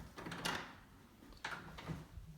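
An upstairs storage closet door in a house is opened, giving two soft knocks or clunks about a second apart against a quiet room.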